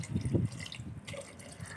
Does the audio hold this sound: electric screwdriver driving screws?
no